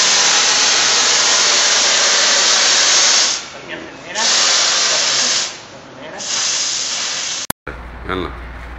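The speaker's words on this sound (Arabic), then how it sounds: "ورينا البخار، ورينا البخار كيف طالع" A portable steam cleaner for carpets, seats and car upholstery blasts a loud, steady hiss of steam that dips and resumes twice before a sharp click near the end.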